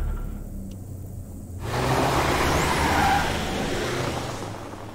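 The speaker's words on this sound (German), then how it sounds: "dann fahren wir mal mit dem Auto weiter" Car driving in the video game Road 96, a steady engine rumble with road noise that swells after a quieter start and then holds at an even level, with no talking.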